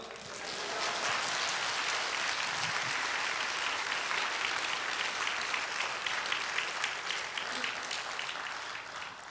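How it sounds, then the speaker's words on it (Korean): Steady, sustained applause from a church congregation welcoming a pastor, filling the room for several seconds before tapering slightly at the end. "우리 목사님 나오실 때 할렐루야와 박수로 크게 환영해 주시면 감사하겠습니다."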